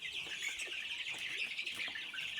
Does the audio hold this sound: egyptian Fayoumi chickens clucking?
yes